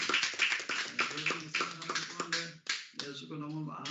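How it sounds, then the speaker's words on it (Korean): A church group claps together for a pastor after a Bible study session, with quick, dense clapping that rises and falls under speech and ends with a short pause. "우리 박수 좀 한번 해드리도록 하겠습니다"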